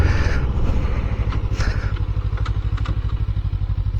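Small fuel-efficient motorcycle riding along a road, its engine putting out a loud, steady pulsing drone with fast rhythmic firing, close to the microphone, plus wind rush and faint clatter.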